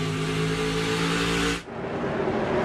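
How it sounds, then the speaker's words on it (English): A NASCAR race car accelerates off turn four, its engine a loud, high, continuous roar that suddenly drops away as it passes, leaving a softer rumble behind. "Kurt Busch off of turn 4."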